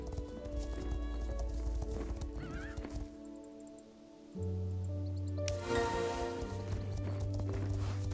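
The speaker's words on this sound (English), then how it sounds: "This is another baby horse." A baby horse in a western-themed video game whinnies and its hooves clip-clop over a steady musical soundtrack, with a louder, denser stretch in the second half.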